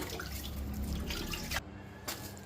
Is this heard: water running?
yes